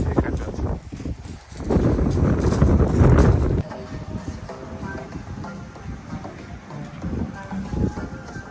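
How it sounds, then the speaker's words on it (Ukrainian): Heavy, gusty wind rumbles and buffets the microphone outdoors at an animal enclosure in a park, loudest early on, with faint voices and clatter underneath. "Це задуває вітер."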